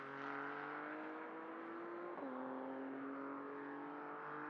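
Ferrari GT race car at full speed down the start-finish straight at Mugello, a steady loud high-revving engine drone with a brief pitch dip midway as it shifts, no voices.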